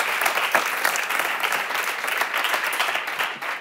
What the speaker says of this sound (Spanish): Un aplauso para Paula Blas, por favor